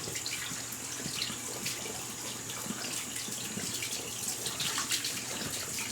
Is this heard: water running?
yes